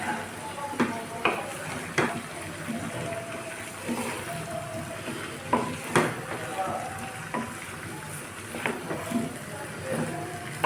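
Fried mango pieces with turmeric powder and salt stirred in oil, a steady sizzle broken by repeated scraping clicks of a spoon against the pan, with faint background talk.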